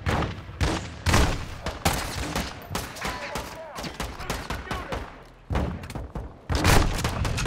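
Video game gunfire in a combat scene: rapid bursts of shots and heavy booms crackle in quick irregular volleys, loud and close, with several short pauses, while players talk over the action.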